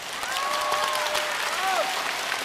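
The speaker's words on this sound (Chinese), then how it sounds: "掌声再热烈一点更好了" A live crosstalk comedy audience in a theatre gives sparse, scattered applause, moderately loud and steady, with a voice faintly over it.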